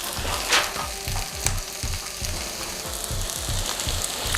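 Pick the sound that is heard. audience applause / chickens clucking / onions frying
onions frying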